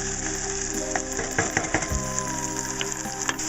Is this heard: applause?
no